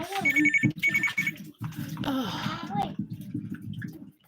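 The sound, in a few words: phone ringing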